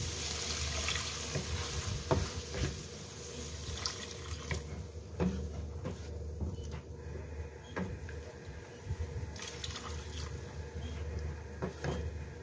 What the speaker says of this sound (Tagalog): Ngayon, lalagay ko yung chicken broth.